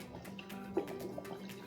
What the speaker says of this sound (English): I'm going to add some warm water,